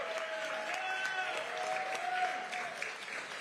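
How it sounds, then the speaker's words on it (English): Crowd applause for construction union Local 79 workers at a South Bronx redevelopment announcement, steady clapping spread across the room for several seconds with a faint tonal hum beneath it. "Local 79, let's give them a big round of applause as well."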